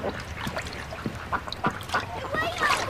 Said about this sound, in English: See that duck?